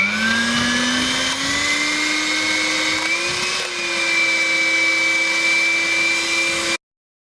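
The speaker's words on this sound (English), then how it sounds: "Now, time for the whisking." An electric hand whisk beats brownie batter in a bowl, its motor a steady high whine that rises slightly in pitch over about seven seconds before cutting off abruptly, with no talking.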